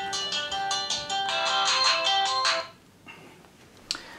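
A mobile phone ringtone plays loudly for about two and a half seconds as a bright, repeating melodic pattern, then cuts off, leaving quiet room noise and a brief click near the end.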